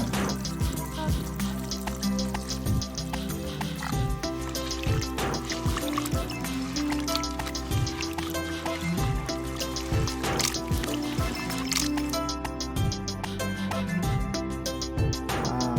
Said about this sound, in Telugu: ఈ ఎముకలు మునిగేదాకా బాగా పూర్తిగా మునిగినంత నీళ్లు పోసేసా